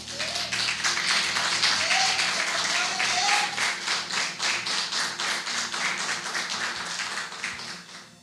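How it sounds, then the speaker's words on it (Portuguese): A church congregation clapping their hands in rhythm at a worship service, a steady, full beat of many hands, loud and continuous throughout, with faint voices and music beneath. "Bate palmas para Jesus."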